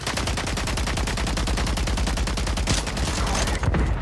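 Rapid automatic gunfire in the video game Rainbow Six Siege, a steady, evenly spaced stream of loud, close shots running nonstop for about four seconds.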